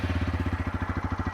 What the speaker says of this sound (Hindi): अपाचे 164B का साउंड सुनो भाई,